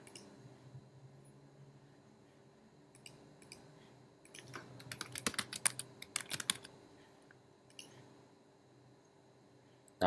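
Keys clatter on a computer keyboard as someone types interest terms into a Facebook ad targeting field, with light scattered taps that build into a denser, quick burst of clicks midway, close and fairly quiet.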